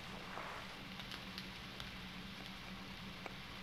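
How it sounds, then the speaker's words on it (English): Rain in the Shenmue II video game, a faint, steady hiss and patter with occasional small ticks and crackles, heard alone without talk. "Sounds rainy."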